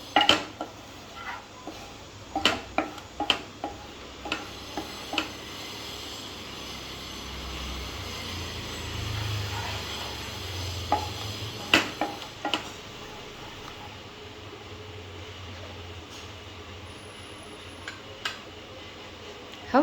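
Flour roasting in a pan for mango barfi, stirred with a spoon that scrapes and clinks sharply against the metal at uneven intervals over a quiet background hiss.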